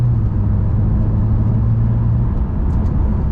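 A 2013-era Porsche 911 Turbo 991.1 heard from the cabin while driving, a steady low engine drone and road roar held evenly throughout, no voices.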